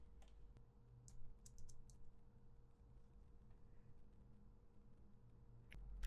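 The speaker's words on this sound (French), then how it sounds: "lorsque j'appuie sur une touche" Computer keyboard keys are pressed in a few scattered, quiet taps over a low steady hum, close but faint, with no talking.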